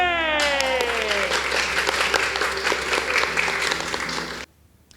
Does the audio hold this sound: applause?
yes